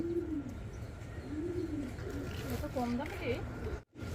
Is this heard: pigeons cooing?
yes